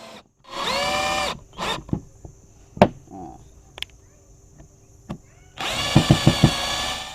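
A Bonya cordless drill drives a rusty 3-inch screw into wood in two loud whirring runs at the start and end, the second ending in several sharp stuttering bursts, with clicks and knocks between.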